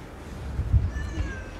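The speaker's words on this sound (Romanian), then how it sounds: "Am ajuns acasă de 5 minute și mi-a sărit pisica pe schelă." A cat meows on a building's scaffolding, giving a single faint, short cry close by against quiet outdoor background noise.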